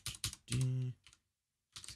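A computer keyboard being typed on in short clattering bursts of keystrokes, close and fairly quiet, with a brief hummed note and a pause before typing resumes.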